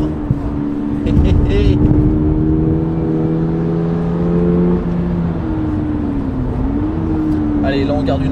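A Toyota GR86 engine revs up as it accelerates out of a corner on a track, a loud rising and falling tonal drone with shifting pitch, heard close from inside under someone speaking.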